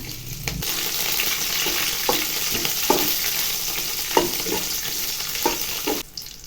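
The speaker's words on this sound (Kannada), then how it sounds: "ಬೆಳ್ಳುಳ್ಳಿ ಸ್ವಲ್ಪ ಫ್ರೈ ಆಗಬೇಕು" Garlic fries in hot oil in a pan, a continuous close sizzle with intermittent stirring scrapes and clinks of a spoon against the metal.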